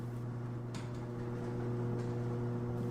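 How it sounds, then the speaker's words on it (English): A garage door motor whirs steadily as the door rises, giving a constant, moderately loud mechanical hum with a few faint clicks over it. "The garage door going up."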